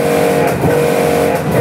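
A pressure washer service gun sprays water while cleaning an inverter window AC unit, a loud, close, continuous hissing roar with a motor hum beneath and no talk.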